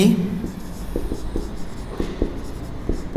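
Chalk or marker writing on a classroom board during a class 10 trigonometry lesson, with steady short scratching strokes in a loose rhythm, close and fairly soft, over a faint room murmur.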